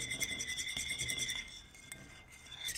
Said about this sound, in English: just whisk everything together